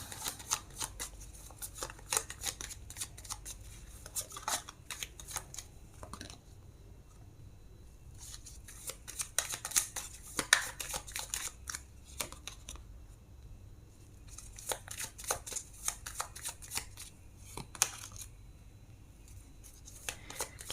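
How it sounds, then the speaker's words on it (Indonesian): Tarot cards are shuffled by hand at close range, giving a long run of quick papery riffles and flicks that come in bursts with short pauses, and no voices. "ada kartu Six of Swords, kemudian ada kartu The Magician, ada kartu The Tower, dan Two of Wands"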